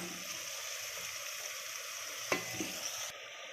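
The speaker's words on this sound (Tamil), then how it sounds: "சிக்கன் போட்டு சிக்கன் நல்லா வதக்கியாச்சு" Chicken sautéing in a pan with turmeric and salt gives a soft, steady sizzle, with a few quick stirring clinks near the end.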